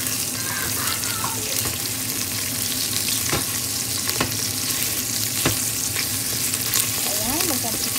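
Ingredients for Hainanese chicken rice sizzle steadily in hot oil while frying until golden brown, with occasional sharp clicks and stirring scrapes over the constant crackle.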